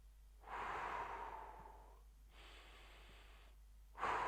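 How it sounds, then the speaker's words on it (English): Heavy, controlled breathing during a core workout: long loud exhales and inhales close to the mic, three drawn-out breaths in steady rhythm with no talking. "Control the breathing."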